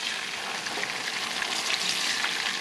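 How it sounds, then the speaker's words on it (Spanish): Tortillas fry in hot oil for red enchiladas, a dense, continuous close sizzle with crackling pops and no talk. "Les damos vuelta, que se doren un poquito del otro lado."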